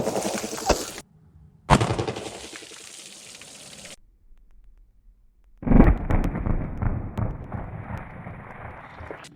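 9mm pistol defensive loads fired outdoors into water jugs: a few loud, sharp reports spaced apart, each followed by a ringing, echoing tail.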